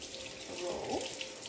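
Water runs steadily from a kitchen tap as a utensil is rinsed off during pumpkin roll baking, a soft continuous hiss and splash at moderate volume.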